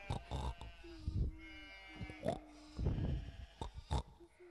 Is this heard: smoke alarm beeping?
no